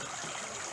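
A backyard pond's spring-style waterfall, where water bubbles out of the side of a hill, gives a soft, continuous trickling wash, faint and steady throughout with no voices.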